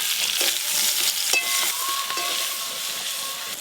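Potato and cauliflower fry in a pan while being pressed and stirred, making a steady close sizzle broken by a few clinking scrapes of the spatula, with no voices.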